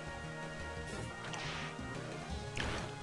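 Vine Whip attack in Pokemon White, heard as two sharp whipping cracks with swishing bursts amid noisy game sound, moderately loud and unaccompanied by talk.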